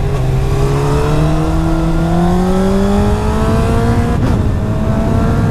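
A Honda CBR sport motorcycle rides a country road on the Swabian Alb, its engine note climbing steadily through the gears with rising whine, loud and close, with a brief shift break near the end.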